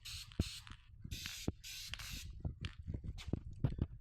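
Aerosol paint sprayed in several short hissing bursts onto the rear outside door handle of a 2010 Hyundai Sonata, each burst fairly close and separated by small clicks and handling noises.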